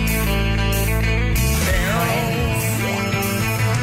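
The Friends TV theme song plays loudly: a full band with guitars and vocals running continuously, with no speech over it.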